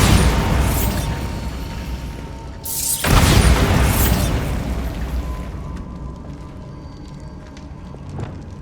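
A Bombarda explosion spell in Hogwarts Legacy bursts with a heavy, close boom, followed by a crackling, debris-laden roar that slowly fades into a quieter rumble with faint mechanical clatter.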